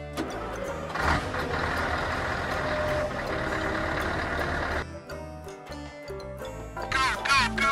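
Close, loud engine rumble from a truck, with beeping reverse alarms sounding over it, then the engine drops away and quieter tonal beeps and clatter follow before a brief louder burst.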